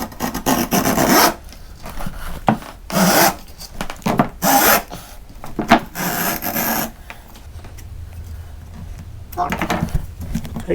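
A saw cutting a 5 metre wooden board along pencil marks, loud rasping strokes in bursts separated by pauses, close up, with someone talking briefly in between.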